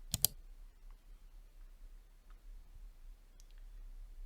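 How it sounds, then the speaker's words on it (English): A computer mouse gives a quick double click, two sharp near ticks at the start, followed by near silence with faint low hum. "click on the Test Email button"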